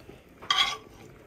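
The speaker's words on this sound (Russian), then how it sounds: "все, что мы сейчас напассировали, мы опускаем в кастрюлю" Sautéed onion and vegetables are tipped into a soup pot in a country kitchen, making one brief, moderately loud clatter and sizzle against a quiet background.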